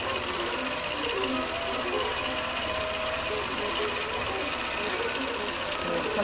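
An IQ computerized quilting machine stitches a flower pattern on a quilt, giving a steady, fast, continuous needle hum and buzz close by, with a faint voice in the background.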